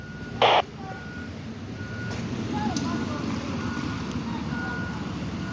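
A vehicle reversing at a crash scene involving a school bus, with a single loud reversing beep near the start over steady idling engine noise and outdoor ambience, and people talking.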